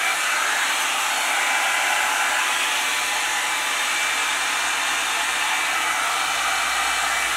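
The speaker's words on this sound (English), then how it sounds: "I absolutely love blow drying my hair." Revlon One Step hair dryer and volumiser blowing hot air while styling hair, a loud, steady broadband whoosh that runs without a break from start to finish, close up with no voices.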